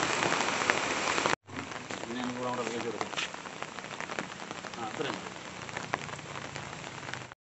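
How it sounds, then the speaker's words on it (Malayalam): Heavy rain pours steadily on an outdoor farm plot with moss and a stream, a dense continuous hiss filling the scene after a brief gap near the start, with faint chirps and a voice in the background. "നല്ല മഴയല്ലേ?"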